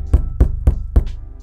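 Four quick, evenly spaced knocks land on a tightly stretched painting canvas, each a taut, drum-like thump with a short resonant ring, close and clear with nothing else heard.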